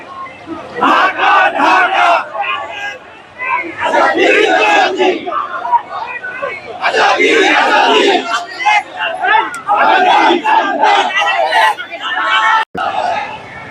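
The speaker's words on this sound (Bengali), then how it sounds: "রাজপথে নেমেই তাদের যে স্লোগান দেওয়া হয়েছে ban ban Awami League ban ban Awami League" Crowd of marchers chanting a slogan together at a street protest march in Bangladesh, loud and close, in rhythmic repeated bursts of massed voices with short pauses between.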